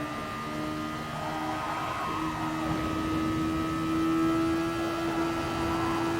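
A Super Formula race car engine at Bathurst in Gran Turismo Sport drones at a steady high pitch, loud and continuous, holding near the limiter without talk.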